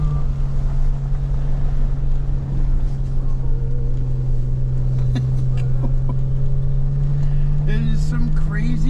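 Jeep Rubicon driving through deep snow with one differential locked: a steady low engine drone heard from inside, close and continuous, with wind buffeting and brief voices near the end.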